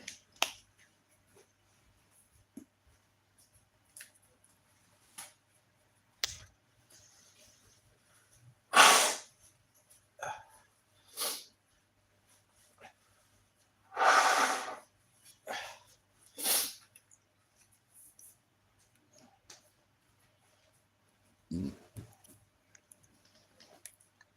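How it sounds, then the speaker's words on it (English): Two or three loud, wet honking bursts of nose blowing, separated by quiet pauses with scattered small clicks and sniffs in a quiet room. "I gotta blow my nose."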